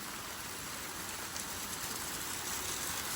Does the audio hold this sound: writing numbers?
no